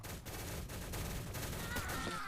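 Rapid gunfire from a sniper weapon in the online shooter Shell Shockers, a quick string of dense shots with game effects mixed in, sustained and fairly loud throughout.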